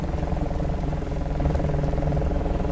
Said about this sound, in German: Ich höre Helikopter.